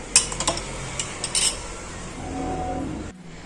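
A spoon clinks and scrapes in a bowl while sauce with vegetable oil is stirred, a few bright taps early on, then a steady swishing mix that stops abruptly.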